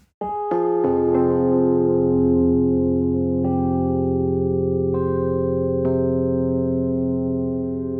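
A sustained synthesizer chord rings out after a few quick notes, with new tones layered in, steady and close, fading slightly toward the end.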